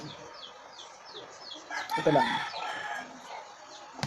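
Chickens cluck in a repeating series of short calls while a rooster crows loudly nearby midway through, and someone says a couple of words under the birds.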